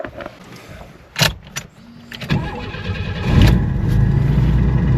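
A car engine cranks and starts with clicks and thumps, then settles into a rising rumble as the vehicle begins to move off.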